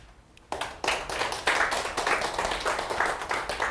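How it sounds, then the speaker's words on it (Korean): An audience applauds after a climate-crisis lecture, the clapping bursting in abruptly after a quiet moment and continuing as a steady, moderately loud round of hands. "우리 교수님께 다시 한번 큰 박수 부탁드립니다"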